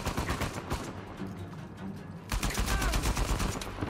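Gunfire from the video game Uncharted 4, a dense stream of rapid shots that thins and then swells into heavier bursts, loud and close, with some talk mixed in.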